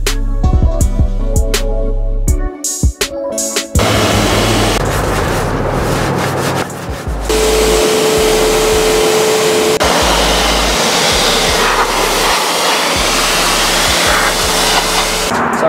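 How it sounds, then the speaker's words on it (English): A heated pressure washer blasts a Twister T4 trimmer clean, a loud, steady hissing spray running continuously close by with brief interruptions near the start. "So we use a heated pressure washer to clean our machines because it gets it that much cleaner."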